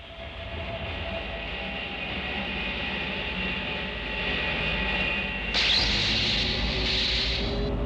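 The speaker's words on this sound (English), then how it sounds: "It's a MiG-242, all right." Steady loud roar of a MiG-242 jet aircraft engine from Joe 90, with a sharper high whine swelling in near the end.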